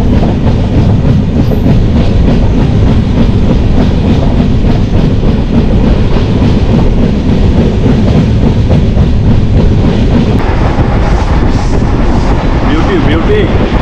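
The Kanchankanya Express from Kolkata to New Mal runs through hills, forest and tunnels with a loud, continuous rumble and clattering of wheels on rails, close and unbroken throughout, voices faintly audible within the din.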